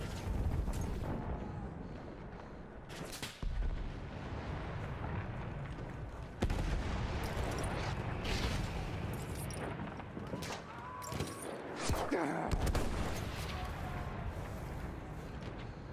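Battlefield 1 combat with dense, overlapping gunfire and booming artillery-like blasts, sharp bursts repeating throughout amid rumbling explosions, with someone talking over the noise.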